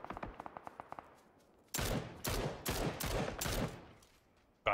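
Gunfire in the video game PUBG: a quick string of small distant pops, then four loud, close bursts of rapid shots separated by short gaps, with a final sharp crack at the end.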